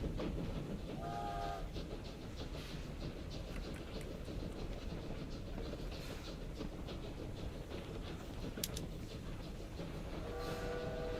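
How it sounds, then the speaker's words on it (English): In a strategy video game, a train rumbles along with a steady rolling clatter, and brief whistle tones sound near the start and the end, all at a constant moderate level. "Tuan Nguyen Phuc intends to travel across Chunky by train to campaign for the Conservative Party."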